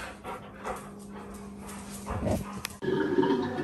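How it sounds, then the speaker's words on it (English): Dogs eat their dinner close by, with snuffling, chewing and a few soft whimpers and pants, growing busier and louder toward the end. "What, the dogs were having their dinner."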